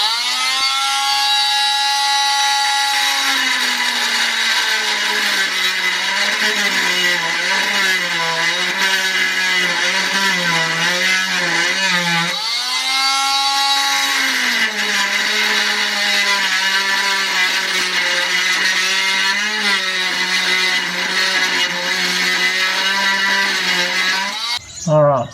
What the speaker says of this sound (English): tried the multi-tool because it's pretty noisy and didn't cut that much